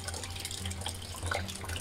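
Rainwater running off the eaves of a village garden house into a barrel, a steady close trickle and patter with scattered drips, continuous over a low background hum.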